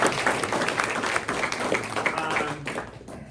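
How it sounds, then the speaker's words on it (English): Audience applause at a press luncheon hosted at Harry's Plaza, a steady wash of clapping from a seated crowd that holds for about three seconds before thinning out at the end. "I want to give a round of applause to Harry's Plaza for hosting us all these years"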